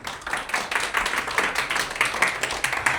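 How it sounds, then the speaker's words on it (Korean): An audience at a university results-sharing event on a school field-practice semester breaks into loud, dense applause. The crisp hand claps rise and fall continuously and close up, with no talk over them. "박수 부탁드립니다."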